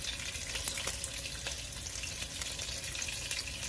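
Braised-style short ribs searing in a pan give a continuous faint, crackly frying hiss with small spits and pops, heard alone with no speech.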